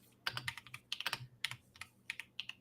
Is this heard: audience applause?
no